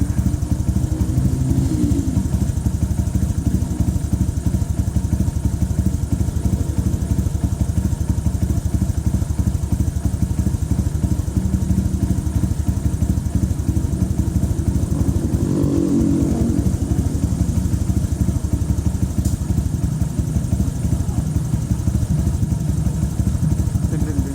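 A Honda scooter engine fitted with an Aracer Mini 5 racing ECU idles steadily and close by, a continuous low throbbing with a faint mechanical clatter and no voices over it.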